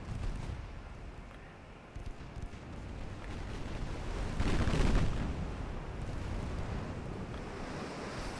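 Warship naval guns fire in the naval battle game Ultimate Admiral Dreadnoughts: a single heavy, rolling boom swells midway over a constant wash of ocean waves and wind.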